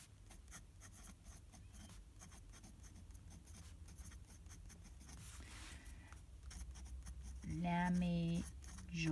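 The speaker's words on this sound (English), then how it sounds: "And now to the writing." A no-name fountain pen with an EF nib, styled like a Lamy Joy, scratches across paper in quick, close strokes and short repeated ticks, faint and intimate, with a brief voiced sound near the end.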